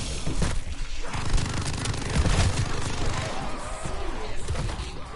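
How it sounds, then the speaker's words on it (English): Rapid shotgun blasts in the World War II shooter Call of Duty Vanguard, a dense run of loud, booming gunfire layered with combat noise throughout, no clear pauses between shots. "I need to see what shotguns actually do against that guy."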